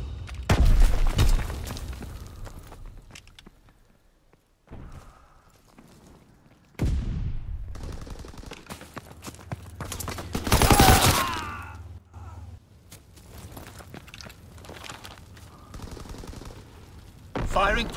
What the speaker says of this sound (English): Firing primary battery. Target position confirmed. Sending mortar rounds.